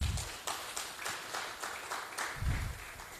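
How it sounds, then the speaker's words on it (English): A room full of guests at a Zambian mining panel gives the panelists another round of applause. The clapping is dense and steady, with brief low thumps near the start and again toward the end. "we owe the panelists one more round of applause."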